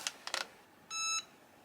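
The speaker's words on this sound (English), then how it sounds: "that beep means that it's done" An EasyPress heat press gives a single steady electronic beep, clear and fairly close, signalling the end of a 12-second press at 150 during a vinyl transfer; a couple of soft taps come just before it.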